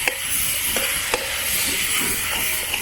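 Pork with tomato and onion sizzles steadily in a pan, a loud, close, continuous hiss broken by a few sharp scrapes and clicks as it is stirred, with no voices.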